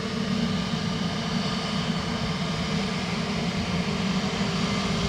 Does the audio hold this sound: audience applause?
no